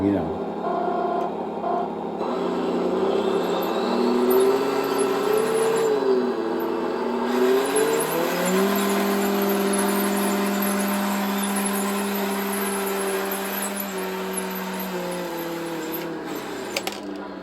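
A continuous mechanical engine drone from the sound module of a 1/9-scale RC Abrams toy tank, with shifting pitch and a faint whine on top, steady and fairly loud, rising and falling as if revving.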